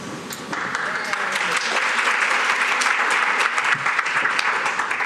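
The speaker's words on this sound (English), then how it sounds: "You think you're clapping now, wait till after lunch." Loud audience applause at a symposium, swelling quickly after a brief lead-in and holding as a dense, sustained roar of many hands, with faint voices underneath.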